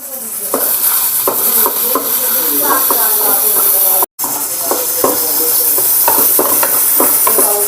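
Coriander seeds, cumin, cloves and coconut frying in a hot pan for a dhaba-style vajdi masala, a loud continuous sizzle with repeated scraping stirs and clinks of the spoon against the pan.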